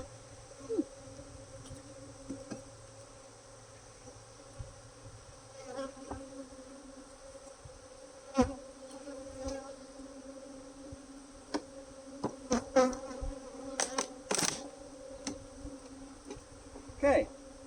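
Angry honeybees swarm around an opened hive during a colony split into a lower box, a dense continuous buzz close by, with scattered sharper passes and taps and no talk.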